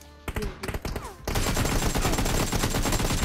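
Dense, loud automatic gunfire from a multiplayer shooter game, preceded by a few scattered sharp shots, then a continuous rattling barrage that fills the rest of the moment.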